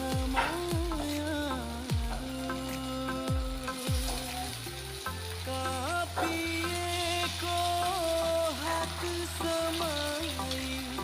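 Sabudana and raw potato snacks fry in hot oil with a constant crackling sizzle, heard close up beneath prominent background music.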